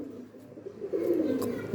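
A pigeon, a lightweight young hen kept by a pigeon fancier, coos softly in a low, continuous murmur close by, with faint background noise.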